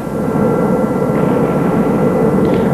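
Helicopter arriving during the end of the 1991 Gulf War in Iraq, a steady loud rotor and engine roar that fills the whole clip without a break, close and continuous, with no talk.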